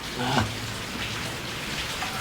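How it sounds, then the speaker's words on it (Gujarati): Heavy rain pours down steadily in a continuous outdoor hiss, loud and unbroken, with a brief burst of voice near the start. "વરસાદ આપડે ધબ ધબાટી બોલે છે જોઈ શકો છો તમે"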